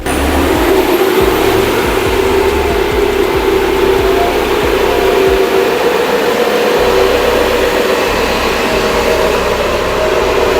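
Alfa Romeo MiTo engine running steadily on a dyno with a brake assistance fault, a loud continuous drone with a constant whine and broadband roar held throughout, no talk.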